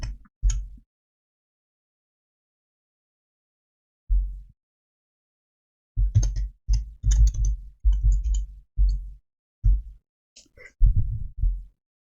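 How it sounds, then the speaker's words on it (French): Scattered bursts of clicky key taps, some isolated and some in quick runs, close by with quiet gaps between. "excusez-moi s'il y a le bruit du clavier"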